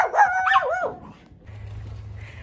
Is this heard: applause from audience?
no